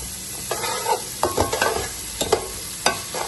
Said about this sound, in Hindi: प्याज को जो है हमने ब्राउन नहीं करना, हल्का सा सॉफ्ट करना है